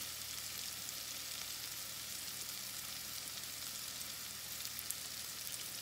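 Dominican pasta sauce sizzles steadily in a pan, a continuous, even frying hiss with soft stirring scrapes underneath, close and fairly quiet, with no voices.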